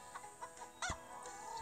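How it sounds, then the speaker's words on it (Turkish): Cartoon chickens cluck in the farming game Hay Day, a few short bursts repeating over steady game background sound. "6 tane tavuk var galiba"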